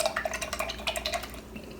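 Starbucks coffee creamer poured into a cup of coffee, a close series of quick liquid splashes and light trickling clinks, irregular and bubbly, with no talking.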